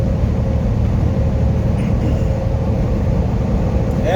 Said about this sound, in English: there sure is a lot of cars out already